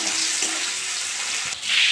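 Onions sizzle and crackle in hot oil, a steady close frying hiss with a brief stir partway through.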